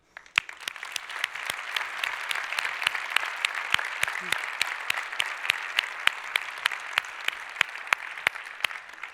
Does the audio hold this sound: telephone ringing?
no